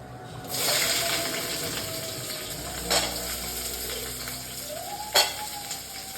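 Onion and green chilli dropped into a hot pan for cabbage chutney, with a sudden loud sizzle that settles into a steady hiss, broken by a couple of sharp spatula taps.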